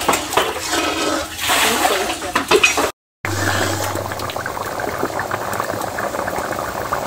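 Coconut milk boiling down in a wok, a full pan reduced to about half, bubbles and hisses steadily and fairly loudly throughout, with a brief dropout to silence partway.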